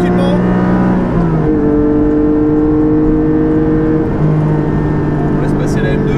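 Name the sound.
Porsche Cayman GT4 with Akrapovic exhaust driving on Spa-Francorchamps circuit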